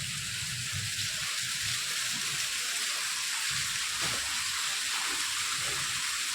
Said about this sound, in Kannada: ಈಗ ಗಾಳಿ ಕಮ್ಮಿ ಆಗೈತಿ ಮಳೆ ಮಾತ್ರ ಐತಿ